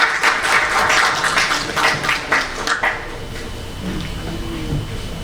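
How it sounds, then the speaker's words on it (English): A conference audience at a technical session breaks into a round of applause, dense clapping loud at first, then thinning and fading toward the end. "Please welcome with a round of applause."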